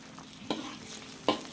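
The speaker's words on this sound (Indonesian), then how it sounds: "Nih kita tunggu hingga dia mendidih ya teman-teman ya. Nah ini udah mulai mendidih ya tuh." Tauco (fermented soybean) sauce heating in a pan for a gourami and tofu dish, a low, steady simmer with faint sizzle and two distinct scraping stir strokes, close and quiet, no talk.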